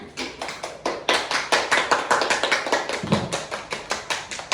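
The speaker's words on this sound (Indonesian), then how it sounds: "Tepuk tangan" Children in a classroom clap together in a steady, even rhythm, several claps each second, close and fairly loud with no voices over them.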